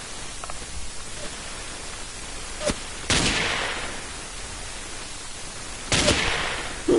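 Sharp, isolated gunshots from the blocky shooter video game Ace of Spades ring out, two or three distinct bursts each trailing off in a noisy wash over a steady static-like background, with no talk.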